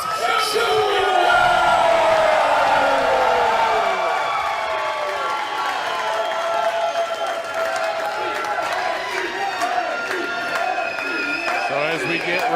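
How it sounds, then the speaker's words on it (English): A wrestling crowd at an Inspire Pro show roars, cheers and whoops for both competitors, a dense, loud, sustained wall of voices with scattered shouts throughout. "a lot of support from the crowd from both competitors"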